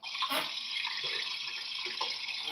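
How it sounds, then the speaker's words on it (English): Water pours into coffee in a steady, gentle splashing stream, fairly quiet and close, with no talking. "that's the water going into the fucking coffee"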